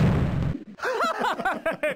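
A cannon fires in the Fisher Price Great Adventures: Wild Western Town game for Windows 3.1, a short muffled boom that cuts off abruptly before a voice starts talking.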